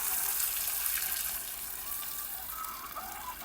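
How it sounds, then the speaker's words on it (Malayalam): Water is poured into a bucket holding powder for a farm bio-slurry mix, a steady, soft gushing splash that runs throughout with no talk. "ഇനി അതിനകത്ത് നമുക്ക് വെള്ളം ഒഴിക്കാം."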